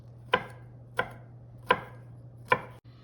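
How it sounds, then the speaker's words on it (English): Four evenly spaced knife chops on a cutting board while mincing sofrito vegetables, crisp and close, over a faint steady hum. "And then we can mince it all up."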